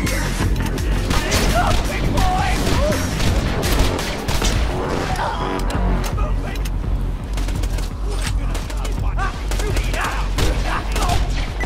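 Borderlands 2 gunfight with dense, loud bursts of rapid gunfire and booming shots that continue almost without pause, with voices talking over the shooting.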